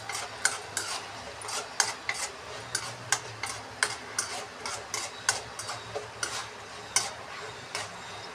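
Cashews, chana dal and mustard seeds frying in a pan for oats upma, giving a steady low sizzle broken by sharp, irregular pops and crackles.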